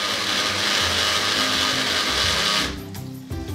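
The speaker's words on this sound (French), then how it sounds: "On va mettre les pommes de terre dans notre blender. On va rajouter le lait. Et on va déjà mixer une première fois." A blender whirs loudly as it purées cooked potatoes with milk, a dense steady motor roar that cuts off abruptly near the end, leaving a few faint clatters.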